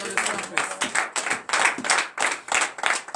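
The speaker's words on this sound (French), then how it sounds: "Donnons l'acclamation à l'Éternel." A church congregation at a morning prayer service in Benin claps in rhythmic bursts, fairly close and lively, with speech mixed in over the clapping.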